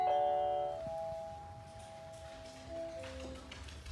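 Chime from a Nest Hello video doorbell: a sustained two-tone electronic ding-dong with steady ringing tones that fade out over several seconds, moderately loud and heard alone without talk.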